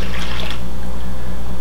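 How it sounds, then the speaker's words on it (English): Distilled water pours steadily into a plastic hydroponic system bin, a loud, close gushing splash that shifts in tone after the first half second, with no voices. "this is the complex process of filling your hydroponic system with water"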